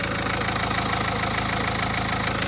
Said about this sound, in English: Engine is working well, no weird noises